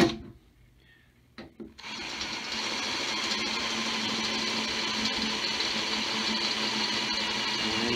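A power tool cuts a hole in a Harbor Freight panel wagon's metal panel, starting after a brief quiet moment and then grinding on steadily and fairly loud to the end.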